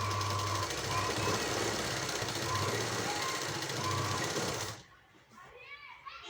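A sewing machine stitches fabric along a marked sleeve line in a fast, steady close-up run that stops abruptly near the end, leaving a quiet room.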